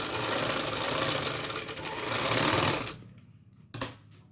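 A sewing machine stitches the seams of a lined kurti, its rapid, even mechanical whirr running steadily for about three seconds before stopping, followed by a single clack.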